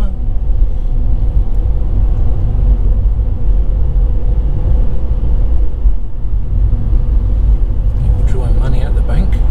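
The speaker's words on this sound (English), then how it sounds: "you've got a bit of traffic as well." Road traffic rolls past in Southport during a drive, a loud, continuous low rumble of engines and tyres that stays steady throughout, heard from inside a car.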